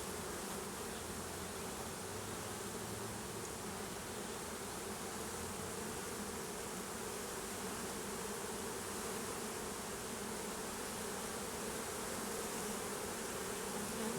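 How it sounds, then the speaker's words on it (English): A dense, steady drone of many honeybees buzzing close by around an opened, agitated hive, constant and loud without pause. "It was all covered in bees a second ago, so that's got a lot of them in the air."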